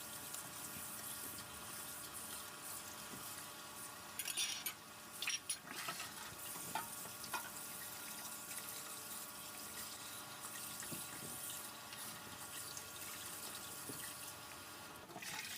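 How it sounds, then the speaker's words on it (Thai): Whole fish being washed under running water at a sink, a continuous hissing splash with occasional clattering handling noises in the middle, fairly close and steady throughout with no voices. "จากนั้นเราก็ไปล้างนะครับ ล้างทำความสะอาดอีกรอบหนึ่งนะครับ"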